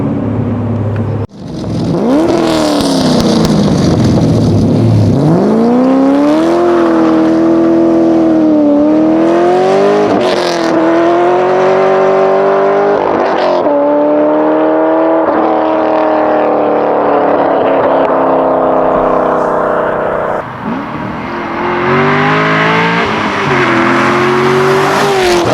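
A Cadillac CTS-V with its LS2 V8 and the muffler deleted roars past from outside, loud revs climbing through gears with a sharp shift gap and a sustained throaty drone, then easing off before another pull.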